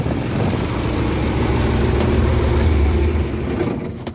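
A tractor engine rumbles steadily at close range with a low droning idle, then fades down toward the end as it is shut off.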